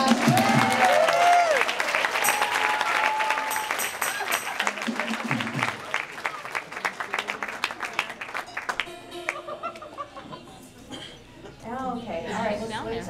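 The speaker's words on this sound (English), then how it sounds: "Big round of applause for" Applause from an audience at a live cat circus show in a cinema venue, clapping with some cheering that thins out over several seconds while voices talk through it.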